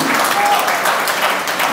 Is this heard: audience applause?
yes